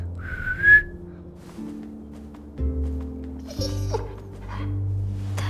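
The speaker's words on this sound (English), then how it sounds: "Now whistle and tell her to lie down." A short rising whistle, followed by low dog whimpers and yips against a quiet background hum, from the video game The Walking Dead: The Final Season.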